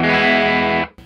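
Electric guitar played on the bridge pickup through an overdriven Gibson EH-185 amp rings out as one sustained, harsh, distorted chord, loud and alone, cut off sharply before a brief faint tail.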